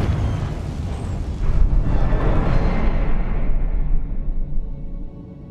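A Confringo spell explosion in the video game Hogwarts Legacy, a loud, sustained fiery roar and rumble that swells and then fades out gradually, without talking.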